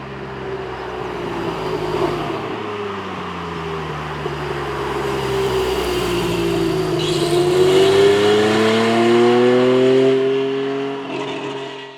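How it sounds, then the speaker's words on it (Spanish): A Renault Alpine A310 V6 on the road, its engine note rising and falling as it accelerates and shifts through gears, steady and fairly close with no talking. "vamos a ponernos a los mandos de este Alpine A310 y ver qué tal rueda"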